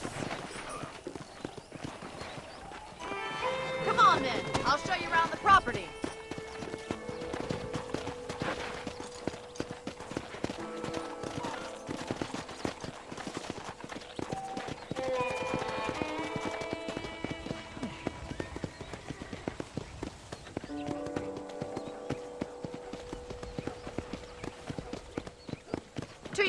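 Horse hooves clip-clop steadily at a trot in Red Dead Redemption, a continuous rhythmic clatter running throughout, with a character speaking over it.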